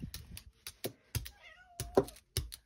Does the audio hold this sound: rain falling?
no